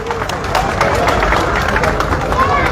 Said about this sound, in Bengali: তার জন্য আমরা একটি উষ্ণ করতালি দিব